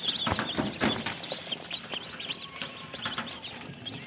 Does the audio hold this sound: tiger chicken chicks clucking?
yes